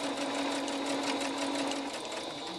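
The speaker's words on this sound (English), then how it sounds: "I'm going to back stitch on one side, and then I'm going to back stitch on the other side" A sewing machine runs continuously, back stitching a tote bag strap with a fast, even mechanical whir and buzzing hum, close and fairly loud throughout with no pause.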